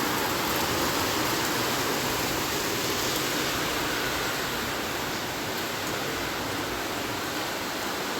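Steady monsoon rain, a dense, even hiss of downpour that holds at constant loudness throughout, with no voices.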